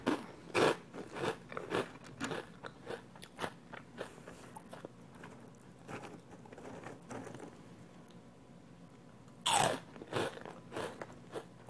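Loud, close crunching of giant Thai rice crackers being bitten and chewed, in repeated sharp bursts with quieter chewing between and a very loud crunch near the end.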